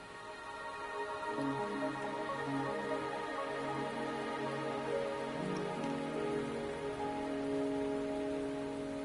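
Steady rain pours on a surface in the video game Wuthering Waves, a dense hiss with a low droning tone underneath, no talking.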